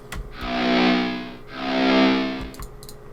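A distorted electric guitar runs through a triplate cabinet miked with an SM57, equalized and sent into reverb, playing two long swelling sustained chords that rise and fade in turn.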